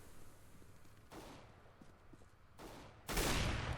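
Gunfire in the video game CS:GO comes as a couple of sharp bursts of shots over a quiet, rumbling game background, with the last burst loudest and closest.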